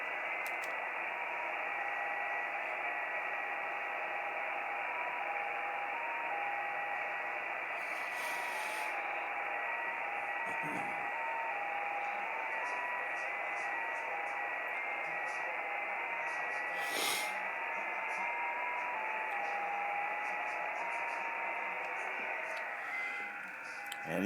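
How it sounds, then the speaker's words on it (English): A JT65 HF digital mode signal comes through a radio receiver as faint stepping tones buried in a steady hiss of static, continuing throughout. "JT65 sounds like this."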